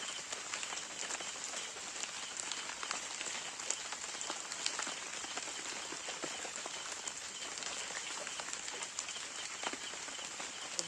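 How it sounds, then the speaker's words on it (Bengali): Steady rain patters on surfaces outdoors near a kitchen where food is being cooked, a constant soft hiss with scattered drop taps, with no voices. "তা বৃষ্টি হচ্ছে"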